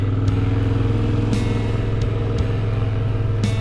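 Yamaha XTZ 1200 Super Ténéré motorcycle climbing a mountain road in the Pyrenees heat, a steady loud engine drone with constant low rumble and occasional brief clattering bumps.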